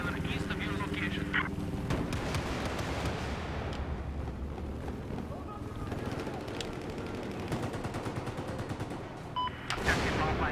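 Battlefield 4 multiplayer gunfire: a dense, continuous rattle of automatic weapons and scattered shots, loud and close throughout, with distant booms mixed in and no clear talk over it.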